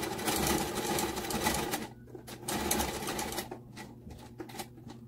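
A sewing machine stitches a leather wristlet in rapid mechanical bursts, running steadily, then stopping and restarting in short hesitating runs, close by.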